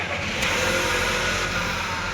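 Volkswagen Polo GT car engine turning over and running, a steady broadband roar at close range with no talking.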